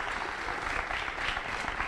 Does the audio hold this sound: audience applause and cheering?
yes